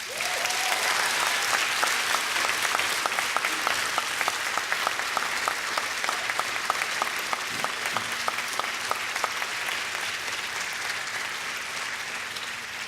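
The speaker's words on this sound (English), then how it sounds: "give a hearty round of applause to all of your friends and families and supporters" Graduates at a university graduation ceremony give a long, steady round of applause to their friends, families and supporters, a dense crowd clapping evenly throughout before it gradually thins.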